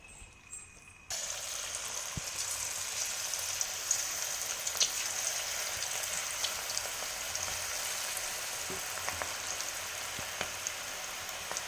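Batter drops into hot oil and fries with a steady fine sizzle throughout, starting suddenly and holding a soft crackling hiss with scattered small pops, moderately faint and close.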